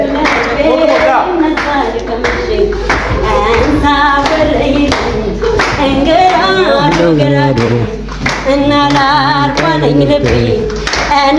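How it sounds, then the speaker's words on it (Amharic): Dancers and guests at an Ethiopian Easter cultural celebration clap in a loud, steady rhythm, with sharp, even beats throughout under singing and music. "አጨብጭቡ እንጂ"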